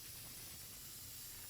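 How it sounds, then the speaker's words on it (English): Spray adhesive hisses out of an aerosol can onto the back of a scrap of hardboard, a soft, steady spray held close by with no talk over it. "I'm going to spray the back of this with adhesive"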